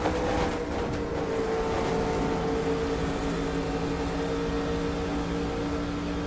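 A steady race car engine roar in the video game NASCAR 2003 Season at Darlington drones on without a break, loud and even, with a constant low hum throughout.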